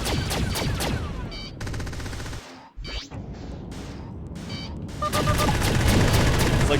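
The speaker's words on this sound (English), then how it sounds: "There goes first missile." A missile fires in the space combat game Freelancer, heard as a loud whooshing launch burst amid ongoing weapon fire and engine noise, with a brief dropout midway before the barrage swells again.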